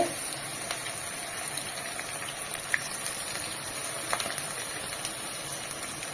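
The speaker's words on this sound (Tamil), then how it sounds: "இப்போ நம்ம ஃப்ரை பண்ணிக்கலாம் ஒன்று ஒன்றா சேர்த்துக்கலாம்" Cauliflower pieces deep-frying in hot oil in a kadai, a steady dense sizzle and bubbling crackle with occasional sharper pops, close and continuous with no voices.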